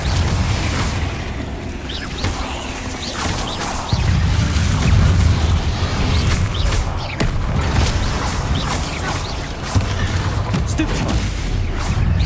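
Confringo fire-blast spells in the Hogwarts Legacy video game go off amid ongoing combat, giving deep booming bursts at a few points. They sit within a dense, loud mix of battle noise and spellcasting sounds.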